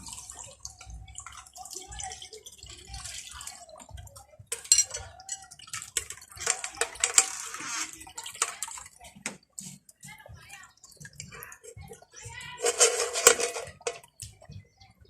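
Water is tipped out of a cooking pot while sweet-leaf curry with red ant eggs is being made, heard as several close, splashy pouring bursts with dripping and light pot clatter, and a voice talking intermittently in between.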